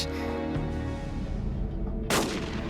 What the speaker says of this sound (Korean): 그 순간 개화파 오경을 향해 날아든 총알